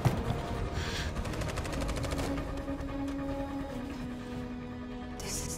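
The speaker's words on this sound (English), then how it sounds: "I'm running into the gunfire." Rapid bursts of gunfire crackle in quick succession, fairly faint, over a low background hum, in the PS5 video game Detroit: Become Human during the fight at Jericho.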